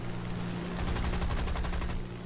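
An XF5F fighter plane fires its machine guns in War Thunder: one rapid burst of shots lasting just over a second, loud over a steady, droning aircraft engine.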